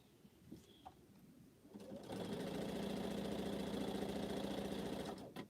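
A sewing machine stitching fabric for a scrap quilt starts after a couple of quiet seconds and runs in a steady, fast mechanical whir for about three seconds before stopping, close and fairly quiet.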